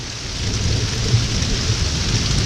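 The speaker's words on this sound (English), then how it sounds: "But you can see the rain is torrential." Torrential rain from a severe storm front in rural Alabama roars as a dense, steady downpour drumming on surfaces, loud and unbroken with a faint low rumble beneath.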